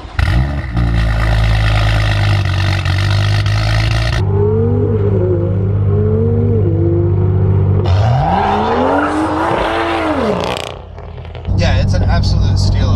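A BMW M2 engine roars loudly up close in rapid rev bursts, its pitch sweeping up and falling back through several shifts, with a brief drop in level and what may be talk over parts of it.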